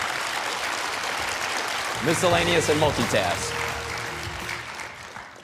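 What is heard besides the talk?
applause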